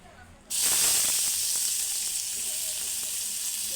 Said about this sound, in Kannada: ಈಗ ಇಷ್ಟ ಎಣ್ಣೆ ಒಳಗೆ ಇದು ಮೆಂತ್ಯ ಪಲ್ಯನೂ ಮಾಡಿಬಿಡ್ತೀವಿ